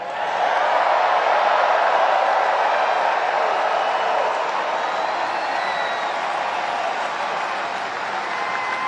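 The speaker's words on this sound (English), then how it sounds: "Like this crowd, look at this crowd" A large crowd at a political rally in North Carolina roars with steady applause and cheering, a loud, unbroken wall of clapping and voices that holds for several seconds.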